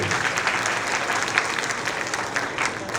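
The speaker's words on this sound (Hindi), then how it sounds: "एक बार जोरदार तालियां हो जाए एसएस चिल्ड्रन अकेडमी के लिए" Audience applause at a school Mother's Day celebration, a dense continuous wash of many hands clapping, loud and sustained, with faint crowd voices underneath.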